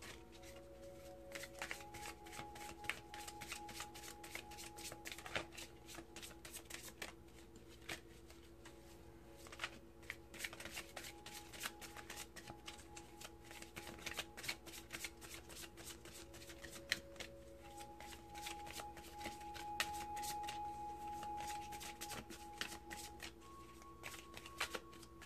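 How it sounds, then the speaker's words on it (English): Miracles Now oracle cards being shuffled by hand, soft rapid riffling and flicking repeated for a long stretch, close and quiet, with faint steady tones in the background and no talk. "Finally, we've got Gabrielle Bernstein's Miracles Now Oracle cards."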